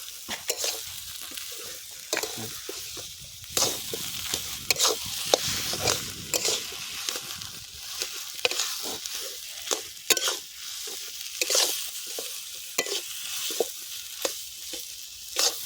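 A cauliflower chop mixture sizzles and fries in a pan, with a spatula scraping and stirring in repeated close strokes over a steady bright hiss; no one speaks.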